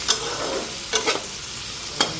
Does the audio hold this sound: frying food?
yes